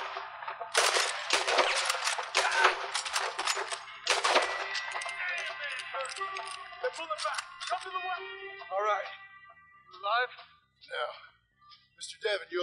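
Gunfire in the video game Red Dead Redemption 2, rapid bursts of shots in the first few seconds, then fading into sparse sounds while someone talks over it.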